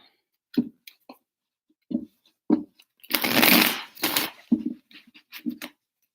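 A deck of tarot cards is shuffled in a few quick riffling bursts, with soft taps and thumps of the cards between them.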